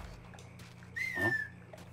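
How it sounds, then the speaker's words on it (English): A short rising whistle from a character calling a dog in the video game Mafia 3, heard once, faint and brief against a low steady background hum. "How can you not? I've just whistled you."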